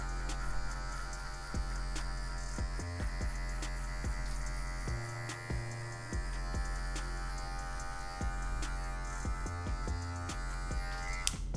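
A hair clipper fitted with a zero guard buzzes steadily through afro hair, a continuous close mechanical hum with small shifts in tone as it moves across the head.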